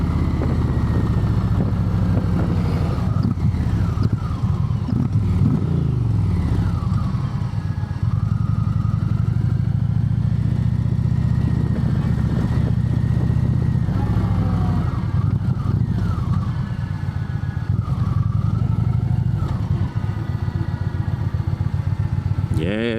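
An Indian Chieftain Power Plus motorcycle on the road, its engine a loud, continuous low rumble with wind noise and shifting revs throughout, while a rider talks over it.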